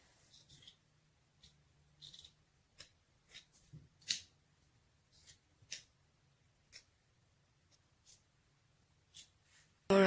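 Scissors cut a costume piece from fabric in a series of separate crisp snips, close and fairly quiet, with short pauses between cuts.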